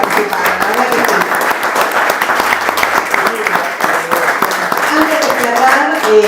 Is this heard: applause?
yes